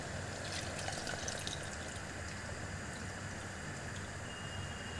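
Tamarind water is poured into a cooking pan for vatha kuzhambu, a steady, soft liquid pour with faint splashing and trickling throughout.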